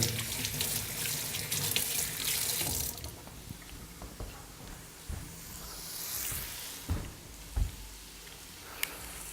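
Tap water rinses a utensil used for raw meat at a home kitchen sink. A strong, close stream runs for about three seconds, then the flow turns softer, with a few light clinks and knocks against the sink.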